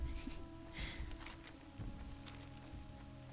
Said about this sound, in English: It's a really nice effect. Like, I feel like there was rain,